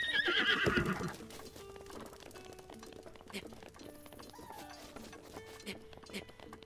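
A horse in The Legend of Zelda: Breath of the Wild whinnies loudly for about a second, followed by quieter game sounds and faint hoofbeats, with a voice talking in the background.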